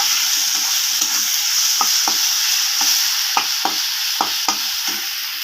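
Spice paste with garlic paste frying for a rohu fish curry, a constant loud sizzle close up with a run of sharp spatula scrapes and taps against the pan at irregular intervals.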